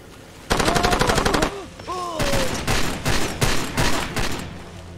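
Far Cry 2 gunfire comes in loud, close, rapid bursts of automatic shots, one long volley followed after a short gap by several more, with brief gliding whistle-like tones and a bit of talk between them.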